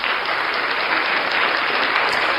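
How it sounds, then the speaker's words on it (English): A podcast audience gives a dense, even round of clapping that holds steady and loud from start to finish. "Clap, clap, clap it up."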